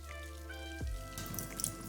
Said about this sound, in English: I'm just going to drain these and rinse them off.